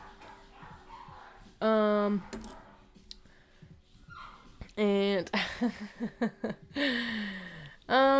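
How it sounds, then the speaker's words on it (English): Pet dogs barking indoors at home, several loud, sharp bursts in quick succession with a few softer yips between them, breaking in over someone talking at moderate distance. "And that's my dogs. If you can hear them, they're barking because my mom's home."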